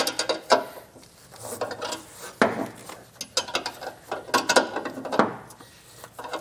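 A 9/16-inch wrench tightens a threaded air fitting into the top port of a Firestone Ride-Rite rear air helper spring on a 2025 Chevrolet, giving several close, irregular ratcheting clicks and metal clinks with short pauses between turns.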